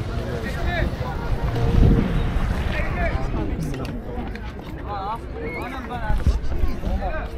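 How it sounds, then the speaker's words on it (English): A small rowing boat crossing the water in Rabat, with steady wind buffeting and water movement throughout as people talk nearby. "All right, we made it on our little boat."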